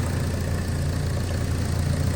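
A Vauxhall Mokka engine idles steadily while warming up after a water pump change, a close, even low rumble with constant mechanical hum and no talking.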